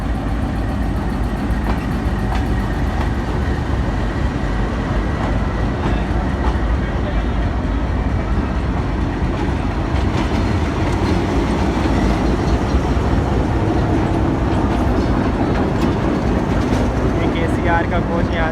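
The Millat Express rake rolls in with a loud, steady rumble of wheels and engine, faint clatter over the rails throughout, and a voice speaking now and then underneath.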